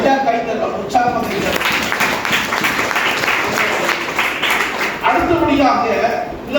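A congregation at a Tamil Christian prayer meeting claps along continuously, with steady loud rhythmic hand claps and speech mixed in throughout.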